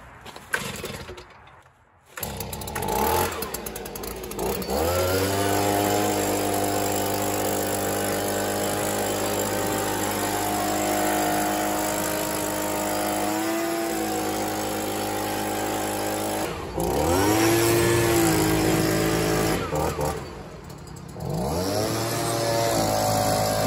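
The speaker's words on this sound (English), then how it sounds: "we'll see a cold start here on the Stihl blower" A Stihl leaf blower cold-starts outdoors at about 40 degrees: a brief pull and sputter, then the small two-stroke engine catches and runs loudly and steadily, with a dip and a throttle rev before settling again.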